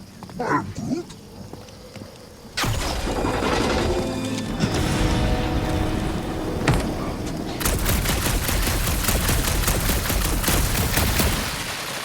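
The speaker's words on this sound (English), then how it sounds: "Shooting your way out of every problem again, Peter?" A firefight in Guardians of the Galaxy: after a quieter start with a voice, loud sustained gunfire and crashing impacts erupt, ending in a dense, rapid string of shots.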